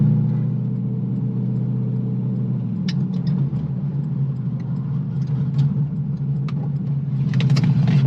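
A Chevrolet Corvette C6 sits idling in traffic at a red light, giving a steady low engine rumble with even, unchanging pitch throughout and a few faint clicks from inside the cabin, with no talking.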